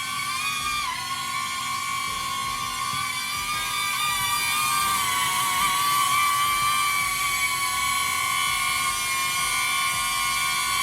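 A DJI Neo mini drone with a 4K camera hovering and flying close by, giving a continuous high-pitched propeller whine that shifts slightly in pitch as it maneuvers, steady and fairly loud, with no talking.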